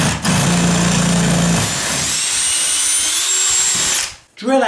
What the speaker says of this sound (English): Drill out all the holes just like that